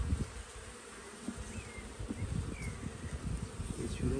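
Honeybees at a garden apiary hum and buzz close by, with a continuous drone broken by individual bees passing near, alone without talk.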